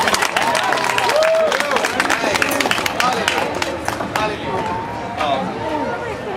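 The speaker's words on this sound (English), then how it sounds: "It's a round of applause." Pride festival crowd at an outdoor live vegan cooking demo breaks into applause and cheering, loud and dense, mixed with whoops and lively chatter throughout.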